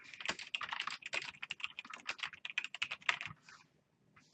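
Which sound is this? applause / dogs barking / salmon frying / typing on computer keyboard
typing on computer keyboard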